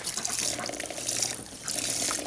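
Broth, about a gallon and a half, poured for gumbo into a Dutch oven, a steady continuous splashing liquid stream running loud and close throughout, with no talk.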